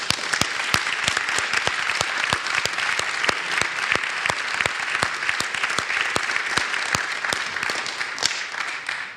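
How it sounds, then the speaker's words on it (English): A council chamber audience applauds a speaker, a steady round of dense, even clapping that carries on loud and unbroken with no voices over it. "So I think you deserve a round of applause."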